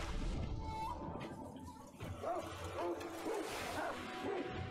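Dogs barking and yipping in the action video game Sekiro, several short barks in quick succession over dense game noise and music, with a voice talking at times.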